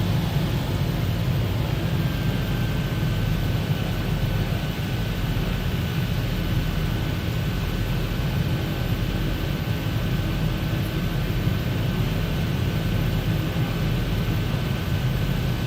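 A Wilga 35/80 light plane in a flight simulator game comes in to land with full flaps, giving a steady, even engine and airflow drone that holds at a constant level throughout, with a faint thin tone running above it.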